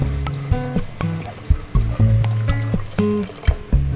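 Water pours into a cooking pot while linarang na bakasi is made in a Cebu home kitchen: a close, gurgling stream that rises and falls in uneven surges for several seconds.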